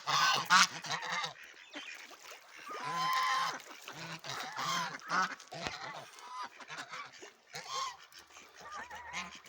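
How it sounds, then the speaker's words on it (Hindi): Ducks by the water give repeated honking, quacking calls in irregular bursts, fairly close and loud, with a faint low hum beneath. "ये डक्स जो है थोड़ा सा हमें देख के परेशान हुई हैं"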